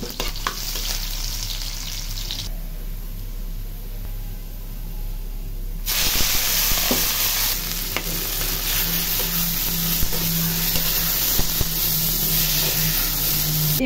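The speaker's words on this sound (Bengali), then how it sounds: "শাক বাগারের জন্য পেঁয়াজ রসুন দিয়ে দিই।" Onion and garlic sizzling and frying in hot oil as greens are tempered, a steady loud hiss that grows fuller midway, with occasional stirring clicks.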